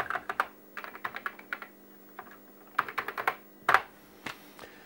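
Keys clacking on a Commodore 64 keyboard under test, in quick bursts of close, crisp keystrokes separated by short pauses, with a steady low electrical hum underneath.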